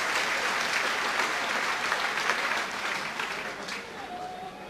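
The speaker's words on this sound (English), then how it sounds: "And Argyle deserve the applause they're getting from the fans." Football fans applaud Plymouth Argyle during a 1997/98 match against Wycombe Wanderers, a broad steady wash of crowd clapping that fades slightly toward the end, with a commentator talking over it.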